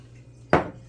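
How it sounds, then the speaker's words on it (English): A cup of water goes into a small saucepan in a home kitchen, heard as one short, sudden splash against the pan after a quiet moment, fading quickly. "I'm going to add my 1 cup of water."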